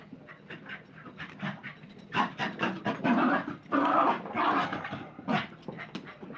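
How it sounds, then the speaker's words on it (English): A dog pants in quick, rhythmic, breathy bursts mixed with whining whimpers, close and fairly loud throughout with no other voices. "maybe the dog needs to smoke some weed because he seems a little hyper"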